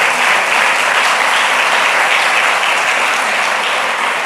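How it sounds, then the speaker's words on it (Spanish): A church congregation claps together in loud, dense, steady applause that fills the whole moment without a break. "Le damos un aplauso al Señor."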